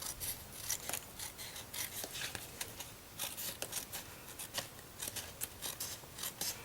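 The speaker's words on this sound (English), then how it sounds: "I should use my bigger scissors, it'd be faster." Scissors snip through fabric strips in quick, close, fairly quiet cuts, the crisp shearing strokes repeating in an irregular rhythm with no talking.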